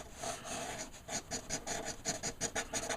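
Letraset Promarker felt tip shading across paper, a quick run of soft scratchy rubbing strokes in an uneven rhythm, close and alone.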